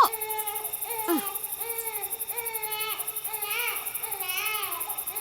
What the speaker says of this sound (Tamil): குழந்தை கத்துற சத்தம் கேக்குது பாரு